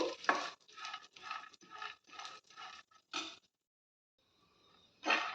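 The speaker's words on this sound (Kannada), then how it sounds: "ಗ್ಯಾಸ್ ಸ್ಟವ್ನ ಸಿಮ್ಮಲ್ಲಿ ಇಟ್ಕೊಂಡು ಡ್ರೈ ಫ್ರೂಟ್ಸ್ನ ಫ್ರೈ ಮಾಡ್ಕೋಬೇಕು" Dry fruits being stirred and fried in a pan on a gas stove on low flame, a close run of rhythmic scraping and sizzling strokes, then a pause and one more stroke, with no talking.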